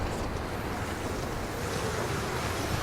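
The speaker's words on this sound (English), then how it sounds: "Weather's definitely getting windy." Wind howling in the survival game The Long Dark, a steady roaring broadband gust with no breaks, heard on its own without voices.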